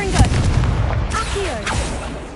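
Confringo blast spells exploding in Hogwarts Legacy on PS5: a loud, close burst followed by further crackling booms and whooshing tails in quick succession.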